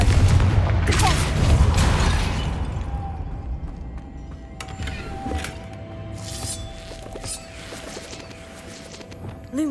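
A Confringo spell explosion in a Harry Potter video game: a loud, booming blast at the start that fades into quieter rumble, with scattered footsteps and small clicks afterward.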